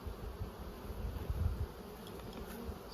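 Honey bees in a weak, queenless hive give off a faint, steady buzzing that carries on low and continuous, with no voices heard.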